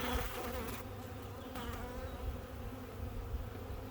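Honeybees buzz steadily and densely close by as two hives are combined in an outdoor bee yard, a continuous hum with no voices.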